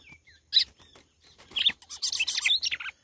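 Close, bright chirps of a Galo de campina (red-cowled cardinal): a few isolated calls, then a dense run of rapid high tweets. No other sounds.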